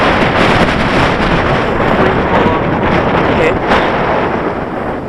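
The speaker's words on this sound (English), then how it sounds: "there's such a powerful wind going" Strong wind gusts buffeting the microphone outdoors during a flight of an Eachine H8 Mini drone, a loud continuous roaring rumble with no break across the whole stretch.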